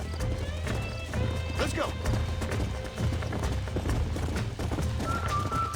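Horse hooves clip-clop steadily in the Red Dead Redemption game after a bronco-busting session, a busy rhythmic patter mixed with a neigh and game effects while a voice speaks over it.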